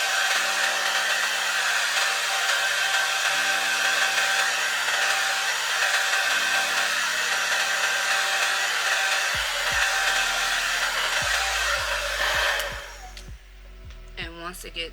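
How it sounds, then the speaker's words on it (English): Blow dryer on the cool setting runs with a loud, steady whoosh drying lace frontal glue, then cuts off near the end, leaving brief soft clicks and handling sounds. "So I'm gonna use my blow dryer on cool just to speed up the process."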